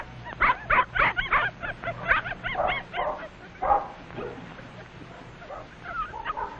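Several puppies yipping and barking excitedly in quick bursts while playing with driftwood on a beach, interspersed with small whimpers, close and lively.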